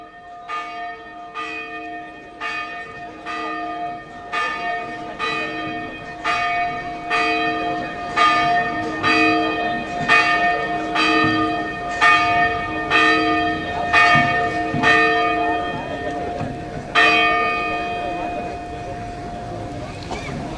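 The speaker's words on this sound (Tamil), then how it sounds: "மாதா கோயில் மணி ஓசையாக இருந்தாலும்" A church bell tolls about fifteen times in a slow, even rhythm, each loud ringing strike hanging in the air before the next.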